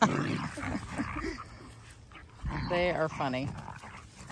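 Dogs whimper and yip in short bursts, including a big brown dog, with people talking throughout.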